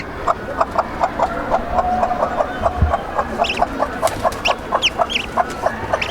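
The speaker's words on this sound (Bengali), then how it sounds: "এই যে বাচ্চারা টুক টুক টুক টুক করতেছে" A domestic hen with newly hatched ducklings in a farm setting: a rapid, rhythmic series of soft clucks and peeps runs throughout, with a few higher chirps near the end; close and fairly loud, no talking.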